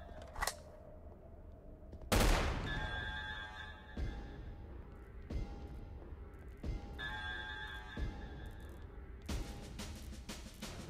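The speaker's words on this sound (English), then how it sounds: "What are you shooting at?" Gunfire in a horror adventure video game: several sharp, loud shots and bursts, the heaviest near the middle, with reverberant tails and low background game ambience between them.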